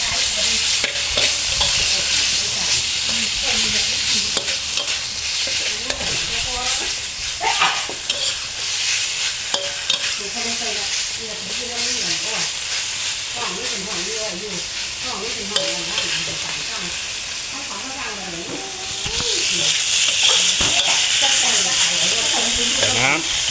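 Continuous loud sizzling of beef stir-frying in a hot pan for a red curry stir-fry with fingerroot and green peppercorns, with spatula scrapes and clatter throughout and a brief spoken word.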